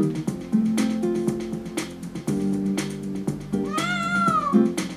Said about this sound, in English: Stop moving, kitty cat.